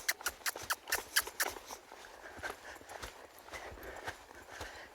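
A young horse lopes on a circle, its hoofbeats landing in quick, close, rhythmic clusters that grow softer toward the end.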